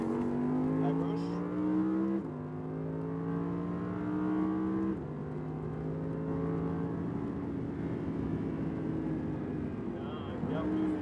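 An Audi race car accelerates hard on a track circuit, its engine climbing through the revs with several sharp gear changes, heard loudly from inside the cockpit as an instructor talks over it.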